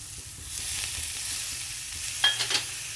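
Tomatoes tipped into softened onions frying in a pan, a steady sizzle with a few sharper clatters near the end as they land.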